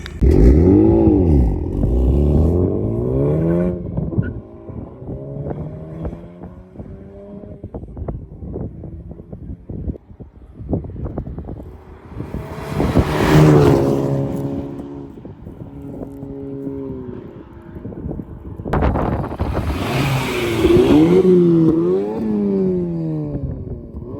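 A Honda Civic Type R FL5 fitted with an AWE Touring exhaust revs in loud, rising bursts, with a long swell at the start and two more blips later, close up with wind buffeting the microphone.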